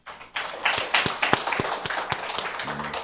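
A church congregation at a morning worship service breaks into applause, starting with a few claps and building into steady, fairly close clapping from many hands, with sharp individual claps standing out.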